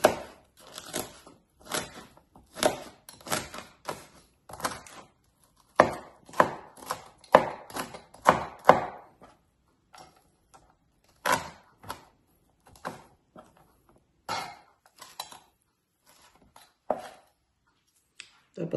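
A knife chopping ingredients for dinakdakan on a cutting board, close crisp chopping in quick bursts of rapid strokes separated by short pauses.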